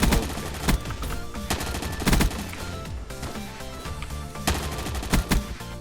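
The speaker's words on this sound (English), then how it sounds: "A little of LMG action." Sustained light machine gun fire from a Black Ops 1 weapon modded into the Black Ops 3 video game, loud continuous rattling bursts with sharp heavier shots punctuating the stream, no voices.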